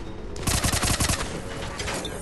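Rapid burst of submachine-gun fire in the Mass Effect 3 video game, a dense run of close, sharp shots lasting about a second, followed by a trailing rumble and game ambience.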